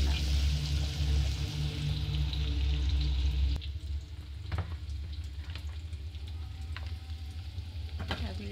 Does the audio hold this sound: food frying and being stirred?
yes